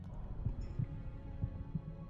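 A heartbeat effect from the cat potion in the video game The Witcher 2 thumps low and steady, about three to four muffled beats over a quiet hum.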